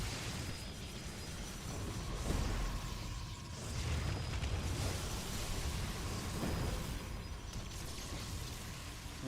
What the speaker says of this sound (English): Tempest firing. A couple of Lurkers taking shots.